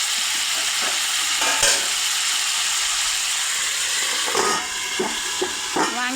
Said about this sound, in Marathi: मस्त असे वांगे छान वाफलून घेते आता.